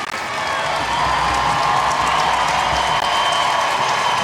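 Stadium crowd at a 2019 NWSL semifinal soccer match between North Carolina Courage and Reign FC applauds a substituted player, sustained clapping and cheering with scattered whoops, loud and dense throughout.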